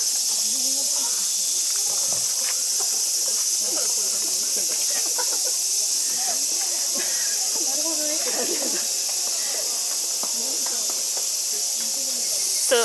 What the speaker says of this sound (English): there's tons of cicadas, which at least they're making a uniform sound